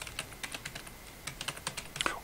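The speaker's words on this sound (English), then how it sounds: "Whoops, I was typing." Quick bursts of keystrokes on a computer keyboard, close and fairly quiet, tapping in an uneven rhythm of short clusters with no talking.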